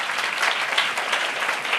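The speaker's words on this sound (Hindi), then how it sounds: "ताली बजाइए।" Brief, steady applause from a congregation clapping together during a Hindi-language church sermon, moderately loud with no one speaking over it.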